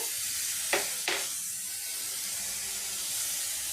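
Tomatoes sautéing with rock salt sizzle quietly in a pan, a soft continuous hiss broken by two brief louder spits of steam.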